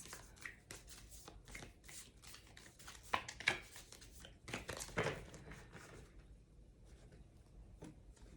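Tarot cards of the swords suit being gathered up from a spread on a table, a run of soft shuffling and sliding card rustles with a few sharper snaps, close and quiet, no talking.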